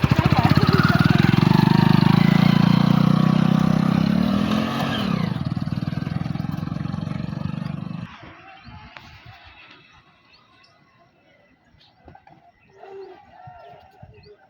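A motorcycle engine idles and revs loudly and steadily while a beginner learns to ride, then drops away abruptly as it stalls, leaving quieter outdoor sounds and brief voices.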